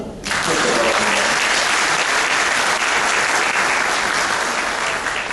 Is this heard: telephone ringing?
no